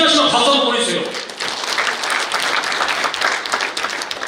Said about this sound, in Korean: 동의하시면 박수 한번 보내주세요.